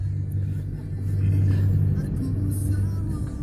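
Street traffic in Jakarta, with a low idling and revving engine rumble from nearby vehicles, among them a yellow truck and a white box van, heard steadily throughout under a person speaking.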